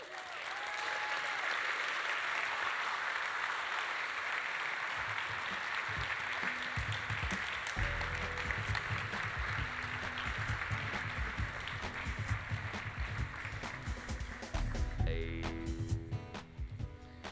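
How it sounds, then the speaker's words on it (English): An audience applauds the Liquid AI team at a product launch event, a loud sustained wash of clapping that runs unbroken for the whole stretch, with music swelling beneath it toward the end. "please give a round of applause for the Liquid AI team"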